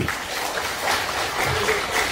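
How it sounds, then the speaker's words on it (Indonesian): Applause from an audience for the Minister of Public Works at a pesantren event, a steady wash of clapping throughout with no speech over it. "Tepuk tangan untuk Pak Menteri PU"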